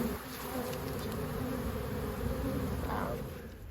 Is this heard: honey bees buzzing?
yes